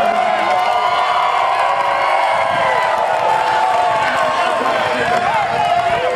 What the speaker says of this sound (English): If you guys want to see a hug, you have to cheer loud on the mat.